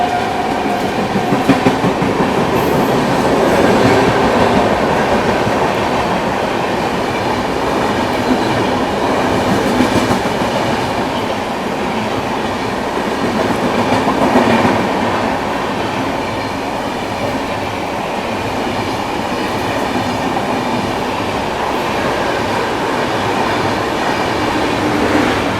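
An LTT Gorakhpur Express train rumbles past Madan Mahal railway station without stopping, with steady rolling clatter of wheels on rails and a broad, loud roar that swells and eases slightly.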